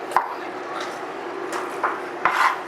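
A knife chops vegetables for chili on a cutting board, with a few sharp, separate knocks spaced out against a steady low background hum, close and fairly quiet.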